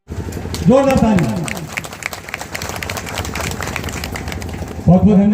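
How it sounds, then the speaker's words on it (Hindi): Loud applause from a crowd at a community event in Jamui, steady and sustained, with a voice speaking over it briefly at the start and again near the end. "जोरदार ताली।"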